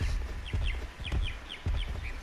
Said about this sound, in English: There's another dodo.